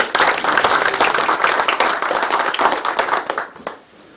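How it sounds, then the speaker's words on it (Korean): An audience at a local government office event in Hobeop-myeon, Icheon, claps loudly and steadily for about three seconds before the applause quickly dies away. "다시 한번 큰 박수를 부탁드리겠습니다"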